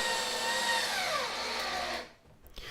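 A power drill whirs steadily for about two seconds, driving screws into an ITG2 dance pad replica, then cuts off, leaving near silence and a small clatter at the end.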